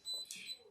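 Electronic beeps from a Pampered Chef Deluxe Multi Cooker as its button is pressed, short bright tones with a soft thump beneath, close and fairly quiet.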